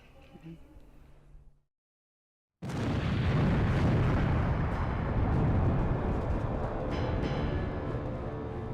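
A sudden, massive roar bursts in after a brief silence and keeps rumbling loudly and densely, like a huge fiery explosion of a plane crashing on a mountain; faint speech comes before the silence.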